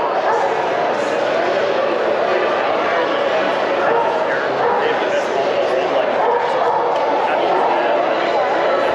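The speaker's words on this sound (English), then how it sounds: "So many dogs." Several dogs bark and yip amid the crowd noise of an outdoor farmers market, a dense, steady wash of chatter with the barking mixed in.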